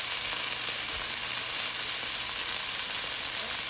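Okra frying in a pan, a dense continuous hiss of sizzling oil, fairly loud and even, with no talk.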